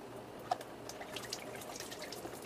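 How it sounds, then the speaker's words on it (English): Water sloshing and dripping inside a glass jar while rinsing sprouting seeds, soft irregular splashes and drips with a couple of faint clinks, close and quiet. "Let me just swish it around a little bit."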